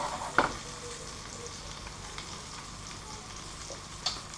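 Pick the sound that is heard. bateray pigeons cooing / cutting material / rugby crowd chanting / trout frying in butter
trout frying in butter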